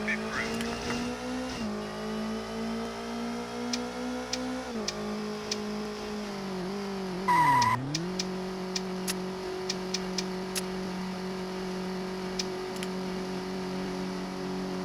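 Race car engine in the PlayStation game TOCA World Touring Cars, a steady droning hum that shifts pitch with a dip and rise as the car slows and accelerates, with a faint ticking alongside.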